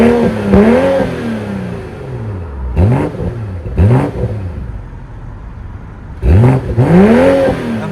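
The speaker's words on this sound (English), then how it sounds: "I'll pop it into sport and give it some revs." BMW M340i LCI engine revving hard in sport mode, with several sharp rising and falling blips in two bursts, loud and close, separated by a quieter settling engine note.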